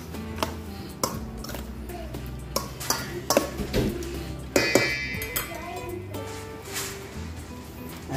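Squid being stirred with calamansi juice in a bowl, giving a run of light clinks and scrapes of utensil against the dish at close range, with soft talk at times in the background.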